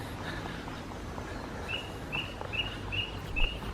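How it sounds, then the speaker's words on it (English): A bird gives a sharp, alarm-like call five times in a steady rhythm, moderately distant over a quiet, low background hum. "Sounds like an alarm, that bird, doesn't it?"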